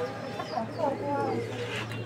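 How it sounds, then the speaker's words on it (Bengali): Fancy pigeons, fantails among them, coo softly in their cages at a Bangladeshi bird market, with a few murmuring calls over a steady low background hum. "এখানে আরও এক জোড়া কবুতর আছে, একদম জনপ্রিয় একটা ব্রিড"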